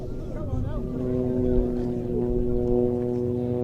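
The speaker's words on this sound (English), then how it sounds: "Rich Goodwin with the Muscle biplane getting airborne immediately" A Muscle biplane with an uprated Lycoming engine and aerobatic propeller takes off at an RAF Mildenhall airshow, its engine drone rising with shifting pitch under a commentator's voice.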